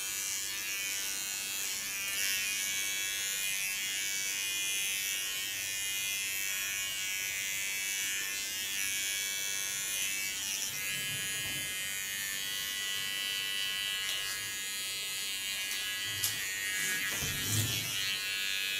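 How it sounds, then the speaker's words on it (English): Electric hair clipper trimming the neckline of a short pixie haircut: a steady, close buzz running throughout, with faint soft rustles and handling bumps near the end. "Holding my clipper in an angle."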